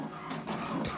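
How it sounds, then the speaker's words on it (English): An HP Deskjet all-in-one printer runs an alignment page, giving a short stretch of steady mechanical whirring with a couple of soft shuffling swells, close by and moderately quiet. "So you select print. So what it's doing now, what is printing is alignment."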